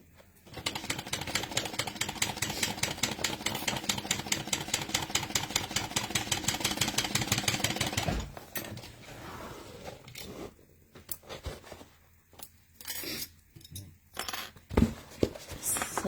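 A sewing machine runs in one steady, fast rhythmic burst while stitching bag hardware, then stops, leaving soft handling and rustling noises.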